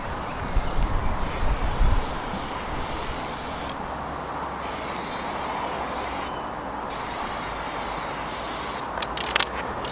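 A steady, hissing spray-paint-can blast runs continuously at close range while painting a wide graffiti line, with a brief rattle early on and small sputters toward the end.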